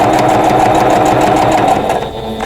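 Sewing machine stitching seams on a quilt block, a steady fast mechanical whir with rhythmic needle chatter, close and loud, running alone.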